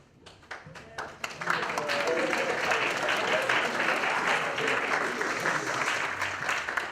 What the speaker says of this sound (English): Please give a strong clapping for him.